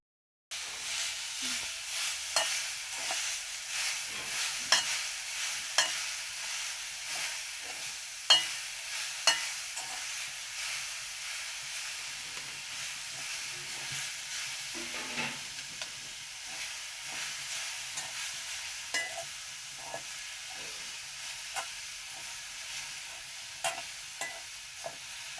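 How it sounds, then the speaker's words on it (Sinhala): Passion fruit leaf mallum is stirred in a hot pan, with repeated sharp spoon scrapes and taps over a constant soft sizzle, close and rhythmic throughout. "ඊට පස්සේ මේ වගේ හොඳට හැඳි ගන්න."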